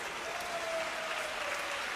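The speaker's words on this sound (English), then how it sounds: "Applause from the crowd even in the replay." Crowd applause at a table tennis match, a steady, fairly faint wash of clapping from a distant arena audience with no break.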